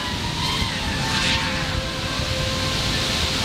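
An FPV drone flies in Dnipro, giving a steady, dense whirring buzz that stays fairly loud and constant throughout, with faint wind-like noise mixed in.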